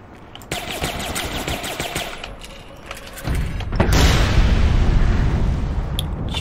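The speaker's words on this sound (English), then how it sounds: "Just fired a rocket itself and it didn't die." A rocket fired amid explosions and gunfire in the APB Reloaded video game, with rattling shots at first, then a heavy booming blast that swells into a loud, sustained roar.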